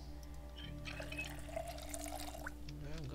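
Drinking from a water bottle in Project Zomboid: a short liquid pouring and gulping burst over a quiet low game hum.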